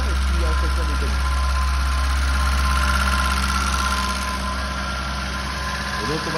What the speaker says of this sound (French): c'est le moteur qui a été restauré